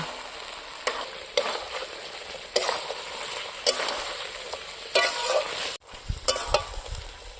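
Chicken leg pieces in masala curry sautéed in a pan, with a steady sizzle and several sharp scraping stirs of a spatula spaced through the clip, close and clear.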